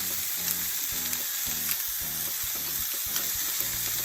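Vegetables sauté in oil in a pan with vegetable stock, seasoned with black pepper, garlic powder and onion powder for vegan jerk jackfruit wraps, giving a steady close sizzle with soft stirring scrapes and no talk.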